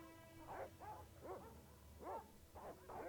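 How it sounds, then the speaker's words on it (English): Dogs bark in Broken Sword: Shadow of the Templars Reforged, about five sharp barks in an uneven rhythm, moderately close over a low background hum. "It's the dogs."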